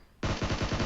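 Gunfire in the mobile battle-royale game PUBG Mobile: a loud, sudden burst of rapid, evenly spaced shots that starts abruptly after a short quiet moment and keeps going.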